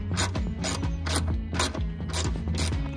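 Repeated rhythmic ratcheting as bolts are removed to fit a carbon rear strut brace on a GR Yaris, about six evenly spaced bursts of clicking wrench strokes, close and fairly loud with no talking.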